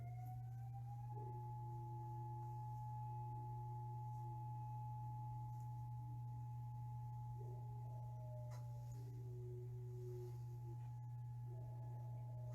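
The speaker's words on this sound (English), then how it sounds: "the dogs do not like the weekly testing of the sirens or the alert system" Outdoor community warning sirens during a weekly test, steady faint wavering tones drifting from a distance over a constant low electrical hum, no voices.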